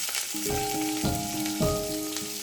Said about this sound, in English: now saute the capsicum until there is no moisture left